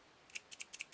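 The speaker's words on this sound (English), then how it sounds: "oh, and I have my clippers as well" Small sewing clippers snip several times in quick succession at close range, a series of crisp metallic clicks and snaps in an otherwise quiet room.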